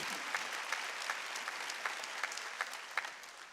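A church congregation at a Korean Wednesday worship service claps steadily together, forming a dense, even wash of applause with slightly louder individual claps standing out.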